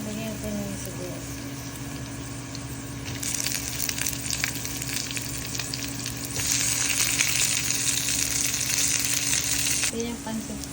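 Onions for yakisoba fry in a pan with a loud continuous sizzle that rises in intensity twice, close and steady, with faint stirring noises beneath.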